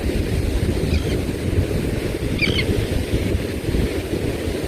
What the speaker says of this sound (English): listening to that tide around us going in and out